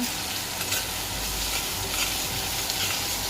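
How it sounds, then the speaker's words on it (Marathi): Chopped onion sizzles steadily in hot oil while being stirred until golden for veg crispy, a dense, continuous frying hiss with soft scraping of the spatula throughout, close and even in level. "आता आपण हा कांदा टाकून घेतल्याला आपण छान असं थोडंसं गोल्डन होईपर्यंत परतून घेऊया."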